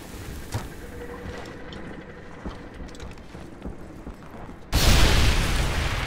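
A loud explosion goes off in the World War II shooter Medal of Honor Airborne, a sudden heavy blast late on that follows quieter clicks and distant gunfire-like thuds, then sustains a roaring rumble.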